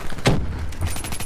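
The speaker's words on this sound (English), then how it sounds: "Why are you shooting your own teammate?" Gunfire in the video game Black Ops 3 comes as a loud close burst of rapid shots, one sharp blast standing out amid continuous game noise.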